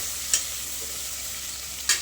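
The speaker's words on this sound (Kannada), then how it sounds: "ಈರುಳ್ಳಿ ಎಲ್ಲ ಸ್ವಲ್ಪ ಕೆಂಪಾಗೋಂಗೆ ಹುರ್ಕೋಬೇಕು" Onions fry in a pan until reddish for a toor dal sambar, giving a continuous hiss of sizzling oil with two brief clinks of a spoon against the pan.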